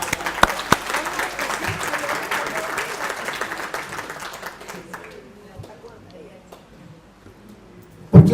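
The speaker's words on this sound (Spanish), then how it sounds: "Entonces, un aplauso para Hugo" Audience applause at a psychologist's talk: dense, loud clapping from a crowd that slowly thins and fades over several seconds, leaving scattered claps and a sharp knock at the very end.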